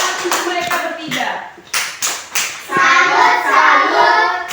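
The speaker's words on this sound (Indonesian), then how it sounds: "tepuk tangan untuk mereka bertiga" Schoolchildren in an early-grade elementary classroom clapping for three classmates, bursts of hand claps alternating with a teacher's voice and children's chatter, close and fairly loud.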